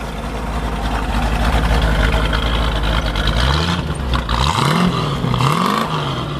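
A 1967 Shelby GT500 Fastback V8 with a lumpy cam idles loudly and close, its low rumble loping unevenly, then dipping and swelling through a few light blips of the throttle.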